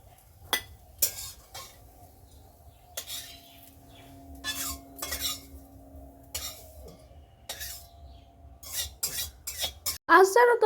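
A spatula scrapes and clinks against a pan of frying bitter gourd and potatoes in a home kitchen. The scrapes come in short, irregular bursts over a low steady sizzle, close and moderately loud, ending in a louder clatter.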